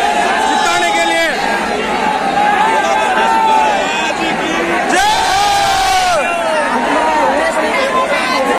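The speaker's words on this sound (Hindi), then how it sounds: "ये दिल्ली का क्राउड है भाई" A large crowd of fans packs a Delhi meet-up, a loud, continuous hubbub of overlapping voices, shouts and cheers that swells in a sudden burst of excited yelling midway before settling back into dense chatter.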